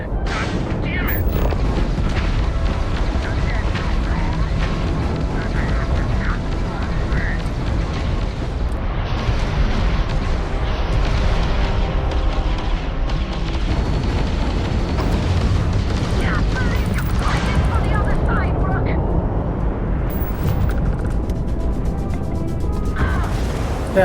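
Rumbling booms and crashing impacts of a spaceship hull breaking apart under enemy fire in the game Starfield, sustained loud and dense throughout, with talking over it.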